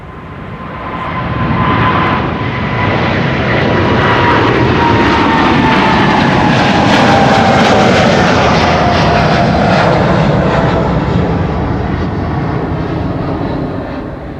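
Airliner approaching the runway at Amsterdam Schiphol airport: a loud, sustained engine roar that swells as it nears and passes close by, then eases slightly, with no talk.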